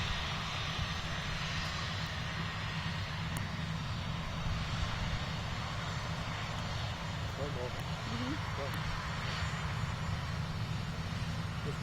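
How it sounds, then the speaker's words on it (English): A DC-8 jet airliner taxiing toward takeoff in the rain produces a steady, loud broadband engine roar that holds constant throughout, with talk heard faintly underneath. "Standing here in the rain, watching my brother taxi down to take off"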